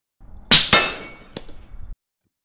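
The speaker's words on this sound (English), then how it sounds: "So this is a supersonic, and I'm gonna hit the steel target." A supersonic rifle round slams into a steel target about 50 yards away: two sharp metallic clangs in quick succession, loud and ringing, then a fainter knock and a brief low rumble, with no talking.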